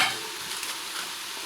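A Moroccan harira base fries in a pot on the stove with a steady, even sizzling hiss, close and fairly loud, with no voices over it.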